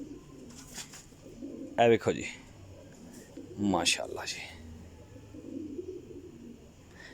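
Champion Pipla pigeons coo in two short, close bursts over low background murmur, and someone speaks briefly between them.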